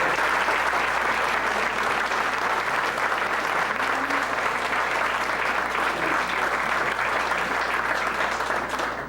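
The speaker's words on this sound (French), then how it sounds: "je vais vous demander un grand tonnerre d'applaudissements pour notre maire honoraire" A town hall audience gives a long, steady round of applause for an honorary mayor, thick continuous clapping from many people at even loudness throughout.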